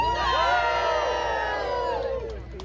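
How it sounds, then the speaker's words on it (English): Crowd at a Renaissance fair in Toronto cheers on cue, a loud burst of shouts and whoops that fades out after about two seconds. "Give me a cheer, if you will."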